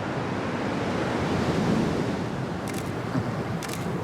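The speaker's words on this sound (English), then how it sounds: "The waves are so nice here." Ocean surf breaking along a Fiji coastline, a steady broadband wash of waves rolling in with a swell near the middle, close and loud, with brief clicking noises toward the end and no voices.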